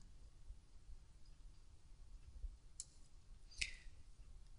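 A computer mouse clicks once or twice while someone navigates a university library journal database, the small sharp clicks faint and close against a quiet room hum.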